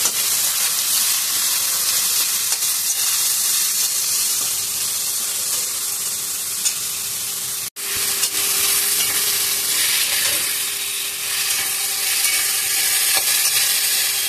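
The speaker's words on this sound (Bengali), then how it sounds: "খুব ভালো করে কষাতে হবে, খুব ভালো করে ভাজতে হবে, গ্যাস কমিয়ে কমিয়ে।" Spiced snake gourd with dried fish and green chilli sautés in a pan over low gas, a loud, continuous close sizzle with faint stirring scrapes and a brief break partway through.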